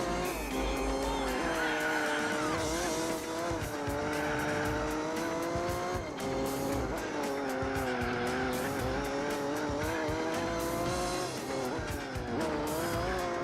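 In Gran Turismo 4, race cars, including a Mercedes, jostle to overtake, their engines whining and rising and falling with gear changes over a steady, loud bed of tire squeal and skidding.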